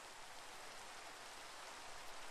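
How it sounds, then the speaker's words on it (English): Steady rain falling in a Minecraft Mesa biome, a continuous soft hiss of drops with no breaks, fairly quiet and alone with no voices. "And it's raining."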